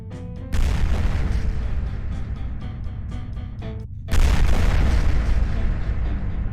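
Deep booming blasts in a space fleet battle in the Fortified Space video game, with railgun fire: heavy, loud explosions rolling one after another, with a sharp new burst near the end.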